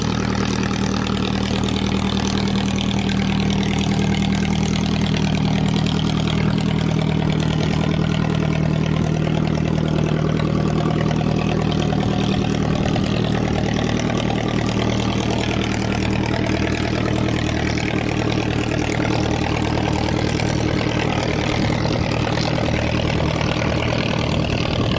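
Fishing boat engine idling at an island mooring, a constant deep throbbing drone that holds steady for the whole stretch with no talk over it.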